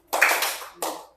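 Children clap a short classroom pattern: a loud burst of claps, a brief pause, then a second shorter burst, close by with no voices.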